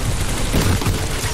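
Gunfire in the video game Titanfall 2, a loud, dense burst of rapid shots and booming blasts that fills the moment with no break and no clear talking.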